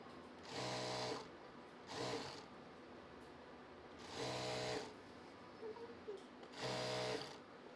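A sewing machine stitches a garment, an umbrella palazzo, in four short whirring bursts of about a second each, separated by quiet pauses and heard close but at low level.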